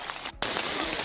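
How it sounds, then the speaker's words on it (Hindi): Heavy rain, with hail reported, pours down at an outdoor sit-in protest, a dense, loud hiss filling the air with a brief dip before resuming at full strength. "आप देख रहे होंगे पानी बरस रहा है।"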